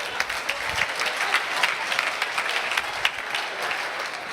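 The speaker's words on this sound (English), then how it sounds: "Give yourself a big round of applause." Light, scattered applause from a small audience at a talk, individual claps distinct and fairly soft, continuing steadily for a few seconds.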